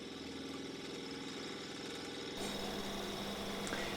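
A small electric caravan water pump with air in the system drones with a pulsing, uneven rattle, then its tone shifts abruptly to a rougher, hissing whir midway through. Close by and steady.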